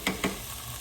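Diced garlic hitting a hot pan: two quick, sharp pops followed by a soft, faint sizzle over a brief moment.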